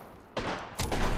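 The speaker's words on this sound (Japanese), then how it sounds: "撃ってる。" Bursts of gunfire in the battle royale video game Apex Legends during a ranked match, two close, loud volleys in quick succession with no talk.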